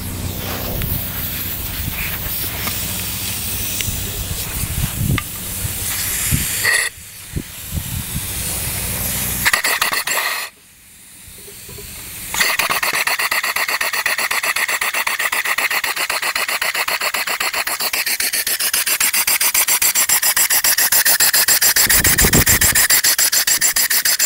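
A two-stroke Briggs engine converted to run on compressed air chuffs in a rapid, continuous rhythm under a heavy airy hiss. It briefly stutters and dips midway, then picks back up and runs on steadily, close by, with no talk.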